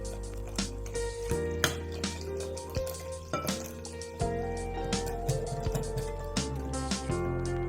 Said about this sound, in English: poured over 500 milliliters of mineral water